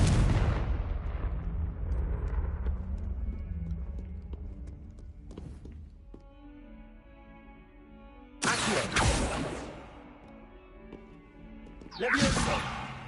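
A Confringo blasting spell in the video game Hogwarts Legacy sets off loud explosive blasts: one at the start that fades out, then two more sharp bursts later, with quieter game sounds in between.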